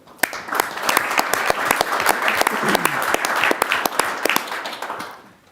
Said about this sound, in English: So I want a round of applause for those two.